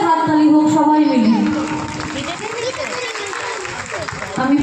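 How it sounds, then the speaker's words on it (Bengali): A crowd claps for the organizing members at a gathering. A voice speaks over the opening, then steady, fairly loud clapping fills the rest. "ওনাদের জন্য একটা জোরে হাততালি হোক সবাই মিলে"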